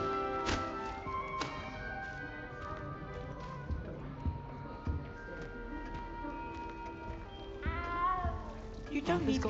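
A cat meows in the Hogwarts Legacy video game, several short calls over a busy bed of game music and character voices.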